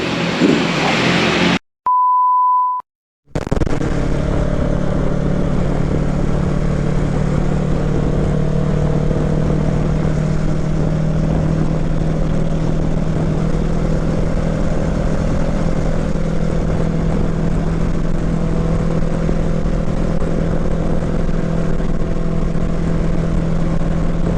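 A motorcycle cruises at a steady 80 km/h with a hand-operated throttle lock holding the speed. It makes a constant, even engine and wind drone throughout, after a short electronic beep near the start.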